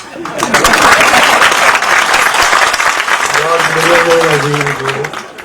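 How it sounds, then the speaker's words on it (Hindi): An audience at a press meet in Jaipur claps steadily for several seconds, dense and fairly close, while a voice speaks over the applause near the end. "आप सभी के बीच में तालियों की गड़गड़ाहट के साथ"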